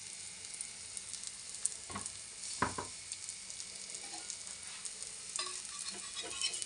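Lauki chilla sizzles and fries in ghee in a pan, with a steady, soft crackle. A few brief scraping and stirring touches rise over the frying.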